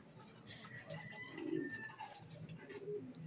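Pigeons cooing as they return to their loft, soft low coos repeating near and faint with a few higher chirps, amid quiet outdoor background.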